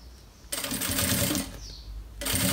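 Sewing machine stitching piping onto a thermal bag with a narrow presser foot, running in two close, loud bursts of rapid stitching with a short backstitch between, under no talk.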